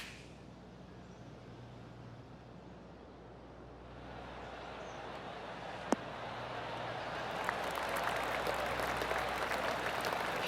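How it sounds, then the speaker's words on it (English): Polite golf clap from a tournament gallery at a PGA Tour event, a soft spread of many hands that swells gradually and grows brighter and denser toward the end over steady outdoor background noise. "Oh, golf clap."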